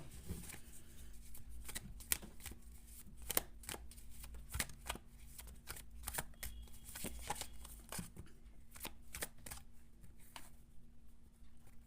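Tarot cards shuffled by hand during an Aries reading, a steady run of crisp papery riffles and flicks close to the mic, with a low constant hum underneath and no voice.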